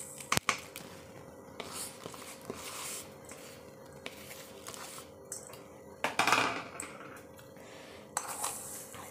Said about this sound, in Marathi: साखर अशी मिक्स करून घ्यायची, याला एकत्र करून घ्यायचं